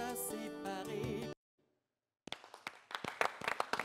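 Audience applause at a tribute for the late former Ivorian president Bédié: a sustained, resonant passage breaks into silence, then scattered claps return and grow denser and louder.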